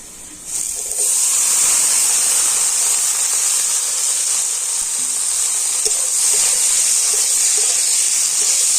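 Diced boiled potatoes drop into hot oil in a kadai, setting off a loud, steady sizzle and hiss that starts abruptly and continues without pause.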